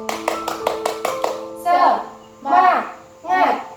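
Children join a rhythmic clapping game as a classroom ice-breaker, with a quick run of about eight even claps followed by three loud group chants, all close and lively.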